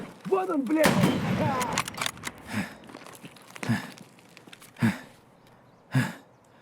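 Gunfire rings out in the shooter game Escape From Tarkov: a loud shot near the start, then several sharp reports at uneven gaps, with a brief voice early on.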